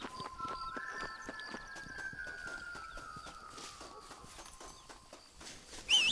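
Steady, rhythmic clip-clop of horse hooves at a brisk pace in the video game Red Dead Redemption, with a faint tonal hum in the background and a brief chirp near the end.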